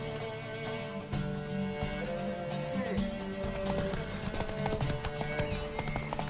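Hooves clip-clop steadily at a trot in the video game The Witcher 3: Wild Hunt, over a continuous musical backdrop, with a horse's whinny mixed in; no one speaks.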